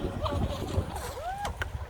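A mini RC outrigger boat with an oversized 1.5-inch propeller runs on water, its small motor whining and rising in pitch as it speeds up, faint amid wind and splashing.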